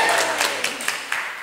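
Church congregation cheering and clapping for children: a brief burst of scattered applause and cheering from a roomful of people, a few distinct claps fading quickly.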